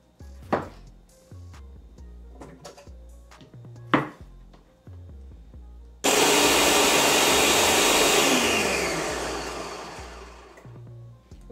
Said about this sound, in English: you want to puree your tomato